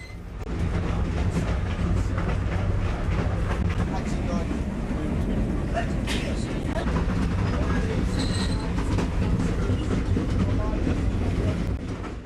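A PeruRail train rumbles steadily along a high Andes mountain railway to Machu Picchu, wheels squealing and clacking under a loud continuous roar, with some talk in the background.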